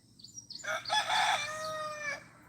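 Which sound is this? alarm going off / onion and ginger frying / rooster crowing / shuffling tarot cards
rooster crowing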